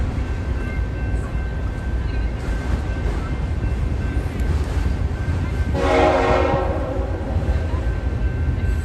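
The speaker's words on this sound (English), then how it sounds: "Nice honking!" Union Pacific freight train horn in College Station, Texas, sounding a loud, sustained blast with rich harmonics over steady rumbling rail noise, swelling in the later part.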